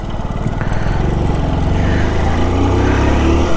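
A motorcycle revs steadily as it pulls away and climbs through third and fourth gear, its mid-pitched engine drone loud and close and rising through the clip, with no voices over it.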